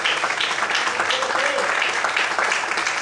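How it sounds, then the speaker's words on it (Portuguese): A church congregation applauds at an evening service, a dense wash of clapping that runs throughout, with voices mixed in underneath. "Quantos podem aplaudir e exaltar ao Senhor nessa noite?"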